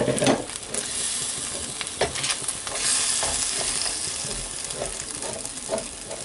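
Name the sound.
mushroom risotto cooking as the last stock is added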